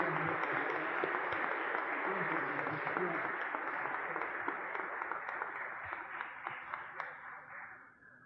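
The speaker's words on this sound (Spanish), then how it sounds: "yo les pido un fuerte aplauso porque es lo único que podemos darle a tanta" An audience at an academic lecture hall applauds with sustained, dense clapping that holds steady for several seconds, then thins and fades out at the end.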